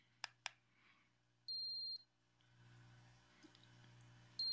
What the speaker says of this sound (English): Those beeps are really annoying.